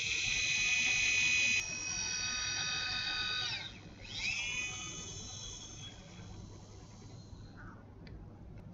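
A dental implant drill runs on a sinus model during a sinus lift exercise, giving a high, steady whine close by that dips and winds down in pitch partway through, then fades to quiet handling noise.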